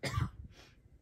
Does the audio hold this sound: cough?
yes